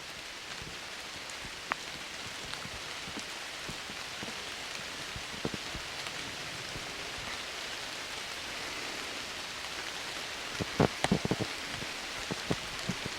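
Steady rain falling outdoors at a rocky wolf den in New England, a dense even hiss with scattered close drops tapping on nearby surfaces, the camera, and gear, no talk.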